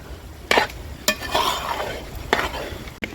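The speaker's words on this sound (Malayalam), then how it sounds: "നന്നായിട്ട് ഇളക്കി കൊടുക്കാം നമുക്ക്" A samosa filling with turmeric stirred in a pan, a few distinct scrapes and knocks of a spoon against the pan spaced about a second apart, close and fairly loud, with no talking.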